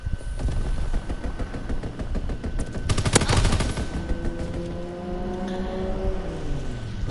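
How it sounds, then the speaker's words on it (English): Gunfire from an enemy aircraft strafing run in Call of Duty: WWII, a dense rapid burst of machine-gun fire that peaks in the middle amid a steady roar, with no talking. "Enemy strafing run inbound."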